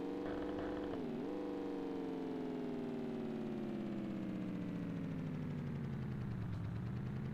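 Amiga Stunt Car Racer car engine in reverse, a steady droning whine that dips sharply near the start and then slowly falls in pitch, loud and continuous with no talk over it.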